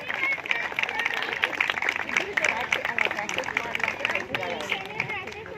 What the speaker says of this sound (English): Everybody, bigger round of applause